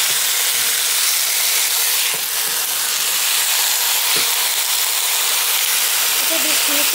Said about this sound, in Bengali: চিকেনগুলো দিয়ে দিলাম, পেঁয়াজ আর চিকেন একসাথে ভাজা হোক